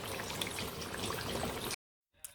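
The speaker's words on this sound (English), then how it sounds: "Add water, just for everything to cook well." Water is poured into a pot of Sierra Leone palm oil stew with tinned tomato, a continuous splashing pour heard close for under two seconds before it stops abruptly, followed by a faint clink.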